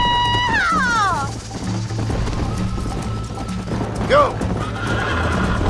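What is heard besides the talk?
horse galloping and neighing in video game Red Dead Redemption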